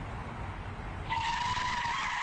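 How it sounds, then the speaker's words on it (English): A car's tires skid and screech before it crashes into a wall, the squeal rising sharply midway and holding loud and high-pitched to the end. "You can certainly hear those tires screeching, ultimately smashing into this wall."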